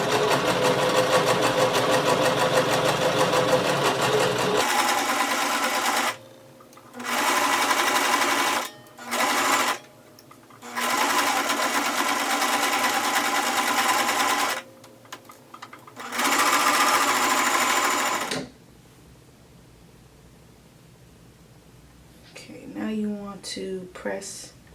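A sewing machine runs in several loud, steady bursts of rapid stitching on maxi skirt fabric, starting and stopping with short pauses, close up, then falls quiet.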